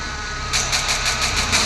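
Car engine in the Free Fire battle royale game, a steady mid-pitched hum that jumps into a louder, pulsing revving drone halfway through, close and alone with no talk.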